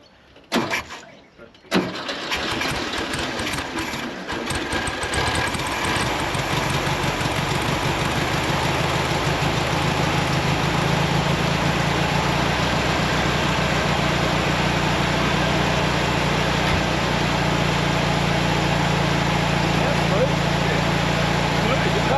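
A Volkswagen Beetle engine starts after a brief stumble, then settles into a loud, steady idle close by for the rest of the clip, with people talking over it.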